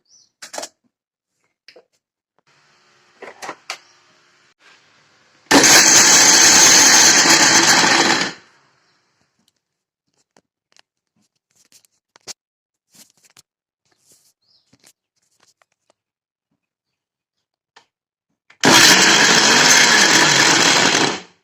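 A mixer grinder whirs loudly in two separate bursts of about three seconds each, grinding dried red chilies, curry leaves, coconut and shallots for a Kerala-style raw mango chammanthi, with quiet clicks and handling noises between the runs.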